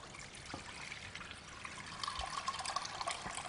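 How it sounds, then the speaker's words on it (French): Cold water pours from a tap over meat in a pot for a pot-au-feu, a faint, steady trickling splash that grows slightly fuller toward the end. "vous couvrez votre viande d'eau froide"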